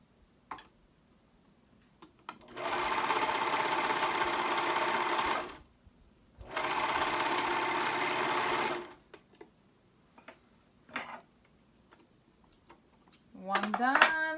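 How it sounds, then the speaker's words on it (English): Serger overlocking the shoulder seam of a hoodie: two steady, fast-stitching runs of a few seconds each, separated by a pause, with clicks and handling noises around them and a voice briefly heard near the end. "And I'm going to serge the shoulder seam."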